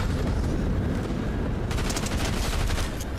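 Rapid Fortnite gunfire erupts halfway through, a quick burst of crackling shots over a steady layer of game background noise, with no talking.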